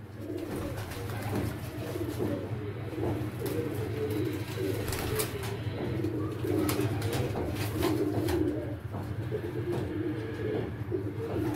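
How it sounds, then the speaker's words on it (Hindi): Pigeons coo steadily in a low, rounded rhythm throughout, several birds overlapping close by with soft rustles between phrases, kept by a hobbyist who holds one of the pigeons in hand. "कबूतर देखें माशाल्लाह।"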